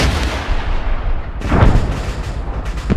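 An anti-tank recoilless launcher firing in Arma 3: a deep, loud blast bursts out midway, then rumbles and echoes away, with a smaller thud near the end over steady background rumble.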